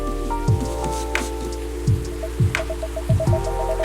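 Rain falls steadily outside a café in the video game Coffee Talk, a dense wash of patter under soft low thuds and a gentle repeating chime, continuous and fairly loud with no talking.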